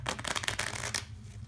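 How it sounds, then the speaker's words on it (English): Playing cards shuffled close up, half face up and half face down, in a quick flurry of riffling snaps that stops cleanly after about a second. "I'm going to go ahead and shuffle them into each other."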